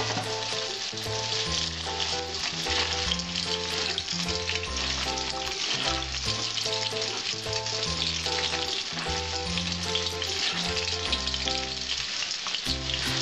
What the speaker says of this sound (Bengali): আমার আলুটা মোটামুটি ভাজা হয়েছে,